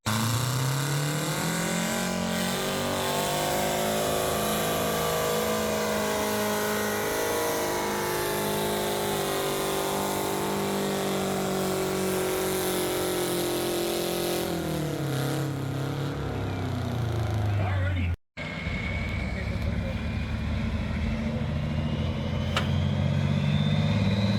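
Tractor in a pulling competition at a fair roaring down the pull track, a loud sustained engine drone whose pitch climbs and holds, briefly dips, then roars on with a gear change near the end.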